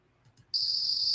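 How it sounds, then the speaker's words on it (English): After a brief quiet moment, a high, steady buzz of emerging Brood X periodical cicadas chorusing switches on abruptly and holds at a constant pitch, loud and continuous. "the periodical family of cicadas known as brood 10 have begun to emerge from the ground"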